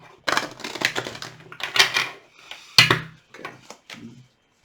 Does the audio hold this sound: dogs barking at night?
no